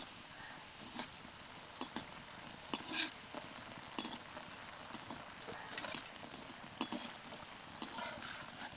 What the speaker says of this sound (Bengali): এই বড়িও কিছু ভেজে নেব।